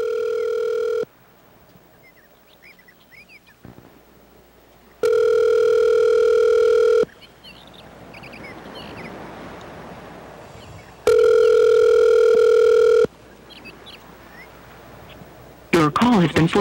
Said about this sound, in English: I don't think Mr. Ginch is going to answer today